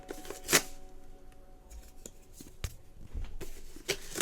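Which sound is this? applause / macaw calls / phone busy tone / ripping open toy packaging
ripping open toy packaging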